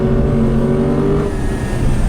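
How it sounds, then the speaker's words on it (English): A 2019 Lexus RC F's big naturally aspirated V8 holds a loud, steady high-rpm roar with a strong engine drone throughout, heard close and alone. "No turbos, just a big naturally aspirated V8 engine and a bunch of power."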